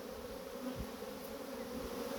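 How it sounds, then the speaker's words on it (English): Honey bees fan at the entrance of a settling swarm, a soft, steady, even hum of many wings heard close and low in level with no talking. "We've got bees fanning the Nasanov glands"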